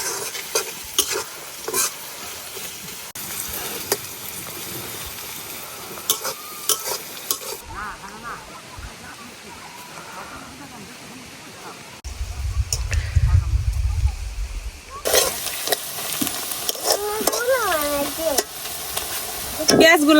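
Onion and cumin frying in a pan while being stirred, giving continuous close crackling sizzle with scraping strokes; a voice talks over the cooking in the final seconds.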